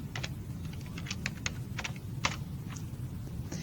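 Keys clack on a computer keyboard as Arduino code is typed, in short uneven bursts with pauses between, quiet and close, with no voices.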